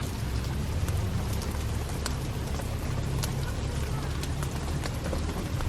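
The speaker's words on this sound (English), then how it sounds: "listen to the sounds of the rain hitting the snow" Dense, steady patter of rain pelting snow, with scattered sharper drips and a low rumble underneath, continuous throughout.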